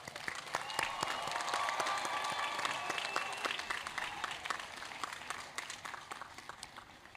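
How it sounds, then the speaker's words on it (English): At an engineering college commencement ceremony, a large crowd applauds the graduates in a sustained roar of clapping with scattered cheers, loud at first and slowly easing off. "Let's give our graduates a huge, huge round of applause for their accomplishment."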